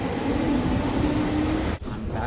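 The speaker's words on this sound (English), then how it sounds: "What a beautiful train." A train rumbling past in Athens, a close, steady roar with a faint tonal whine, briefly dipping near the end before continuing.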